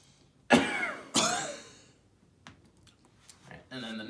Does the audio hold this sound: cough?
yes